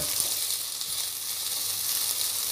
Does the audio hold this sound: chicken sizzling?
yes